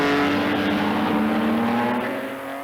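A 1953 Maserati 250F Formula 2 race car engine roars loudly and steadily, a sustained high-revving drone that fades slightly as the car pulls away at a race.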